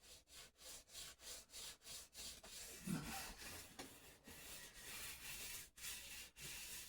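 Foam-backed sandpaper rubs rhythmically along the wooden neck of a jazz bass guitar, a steady series of soft, close scratchy strokes, quiet and with no talking.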